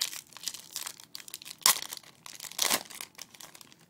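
Crinkling plastic of a Yu-Gi-Oh! trading card booster pack wrapper being handled and torn open, with two sharp louder rips among close, continuous crackling, no talking.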